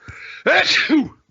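A single loud, close sneeze with a short intake followed by a sharp double burst, picked up on a microphone during an online conversation.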